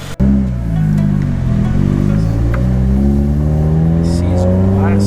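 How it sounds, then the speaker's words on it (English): Car engine idling after a P0172 fault fix, starting up with a sharp burst and then settling into a loud, steady, close rumble with slight pitch wavering. "Gonna let her idle for a little minute"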